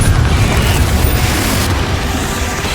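Confringo blasting spell exploding in Hogwarts Legacy, a loud low booming rumble with crackling debris, close and sustained over a couple of seconds with no talk.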